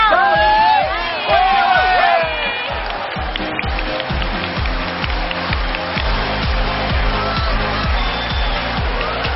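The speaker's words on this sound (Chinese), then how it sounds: "准备好掌声了吗？" A studio audience bursts into applause and cheering at a talk show, loud and continuous clapping with whoops early on, rhythmic beats of music running under the crowd throughout.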